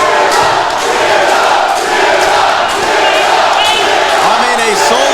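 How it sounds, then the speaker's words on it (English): A sold-out, record-breaking wrestling crowd at the Walker Texas Lawyer Arena roars and chants for Zilla Fatu, a loud, dense, continuous wall of voices with no single words standing out. "a sold-out, record-breaking crowd at the Walker Texas Lawyer Arena are chanting for Zilla Fatu"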